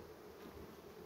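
Honey bees in a hive colony buzzing together, a low, continuous droning hum that stays faint and even for the whole moment, with no voices.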